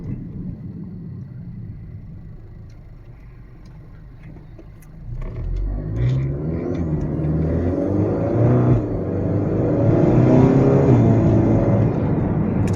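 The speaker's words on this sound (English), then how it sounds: "I'm hoping that the mic can pick up the sound of the spool" A turbocharged 2.0-liter Honda Accord engine with a Stage 2 MHI turbo rumbles low and steady, then swells louder as it accelerates, a rising turbo spool whine building over the deep drone.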